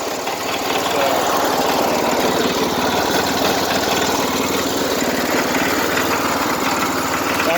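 A Sears lawn tractor engine runs at high revs, a loud steady droning roar with a rough mechanical rattle, holding constant throughout with no pauses.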